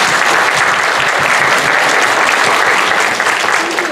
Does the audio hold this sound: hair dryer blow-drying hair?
no